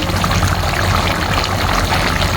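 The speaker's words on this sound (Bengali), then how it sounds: "দেখুন, চিকেনটা বলক এসে দিচ্ছে।" Chicken kosha curry coming to a boil in a pot, a dense, steady bubbling and churning that stays loud and continuous throughout, with no voices.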